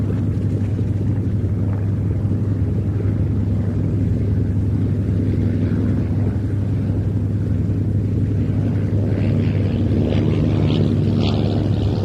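A Spanish-built Hispano Buchon fighter flies past at an air show at Duxford, a loud sustained propeller-engine drone with a steady low hum that builds slightly toward the end.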